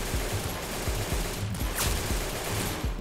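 An AK rifle in the Roblox game Arsenal fires a rapid burst of repeated shots, a steady low, thumping automatic rhythm running the whole time beneath a hissy, noisy background.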